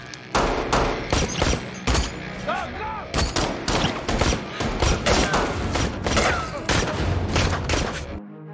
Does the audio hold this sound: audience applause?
no